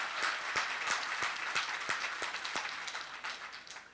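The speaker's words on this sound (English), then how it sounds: "Shall we please give them a round of applause?" Audience applause for political guests at a televised debate, moderate clapping with a few sharp individual claps standing out, gradually tapering off.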